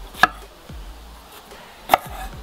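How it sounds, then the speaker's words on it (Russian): Two crisp knife chops through a bell pepper on a cutting board, about two seconds apart, close and clear against a quiet background. "Нарезаю перчик болгарский."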